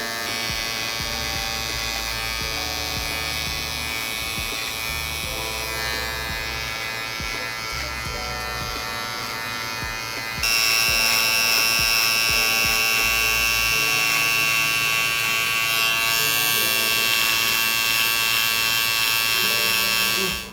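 Electric hair clippers buzz steadily for a low fade haircut, taking bulk off the head, a loud close continuous drone that shifts to a brighter, harsher tone midway as the blade moves through the hair.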